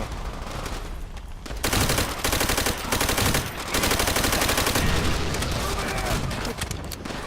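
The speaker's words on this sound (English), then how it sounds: "switch out for a submachine gun" Rapid submachine gun bursts in Call of Duty: World at War, loud close automatic fire in long sustained strings with brief pauses and scattered shots before.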